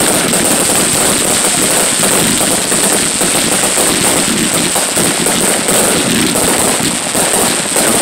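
A fireworks show at Devil's Bowl Speedway bursts directly overhead in a loud, relentless barrage of rapid crackling explosions that rattle like machine-gun fire without pause.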